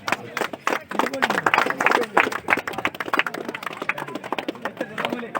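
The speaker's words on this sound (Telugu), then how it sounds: "మీరు క్లాప్ కొట్టాలి" A group of people claps hands at the opening of a cheerful Andhra sports-play programme, a busy patter of close, overlapping claps mixed with talking voices throughout.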